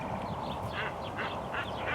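A bird at a zoo giving several honking calls, repeated in a loose rhythm, close and moderately loud over steady outdoor noise.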